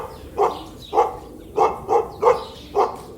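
A dog barks six times in a steady, evenly spaced rhythm, each bark short, clear and close, with no other sounds around it.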